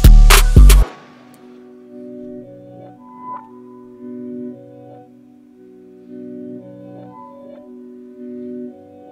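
Dark trap-style piano melody, reversed and chopped up, slowed to halftime and washed in reverb, following a loud hit; sustained smeared tones with a repeating phrase, moderately loud and alone.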